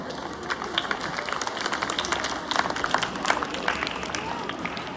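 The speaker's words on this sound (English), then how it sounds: "Give a big round of applause." Audience applause at a student program on constitutional awareness, a steady wash of many hands clapping at moderate level, continuous for the whole stretch with faint voices mixed in.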